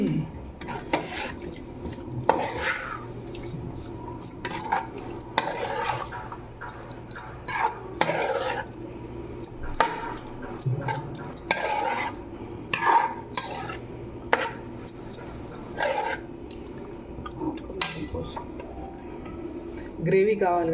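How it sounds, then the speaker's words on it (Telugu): Curd for chicken tikka whisked and mixed in a bowl, giving repeated clinking, scraping strokes in uneven bursts while someone talks steadily over them. "ఇప్పుడు పెరుగు తీసుకొని మంచిగా చిలకొట్టుకోవాలండి, లేకపోతే అంత గడ్డలు ఉంటాయి"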